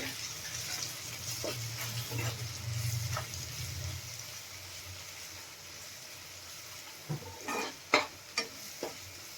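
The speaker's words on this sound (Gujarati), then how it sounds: "મસાલાને બે મિનિટ આપણે તેલમાં ચડવા દેશું" Soft stirring and low sizzling of Kashmiri red chilli, turmeric and coriander-cumin powder cooking in oil for paneer bhurji, faint and close, ending in a few sharper scraping clinks of the spoon against the pan.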